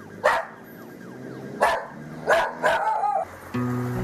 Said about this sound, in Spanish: Esos ladridos son expresiones de auxilio.